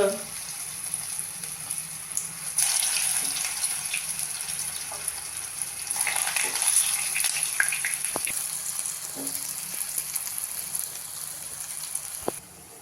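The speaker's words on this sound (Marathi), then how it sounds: "फ्राय शॅलो फ्राय केलाय आपण" Potato tikki shallow frying in a pan, a steady soft sizzle running throughout with brief clinks and scrapes, while people talk over it.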